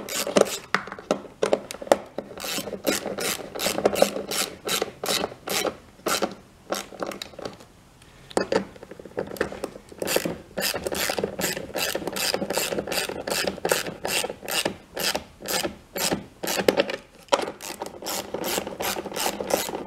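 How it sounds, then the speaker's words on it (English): Rapid ratchet clicks from an 8mm socket tightening bolts while installing a factory stereo on a Yamaha RMAX 1000 side-by-side, close and steady in long bursts with a brief pause midway, no talking. "it's 8mm socket. We'll tighten them down"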